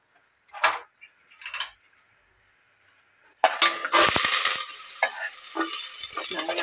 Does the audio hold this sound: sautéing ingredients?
yes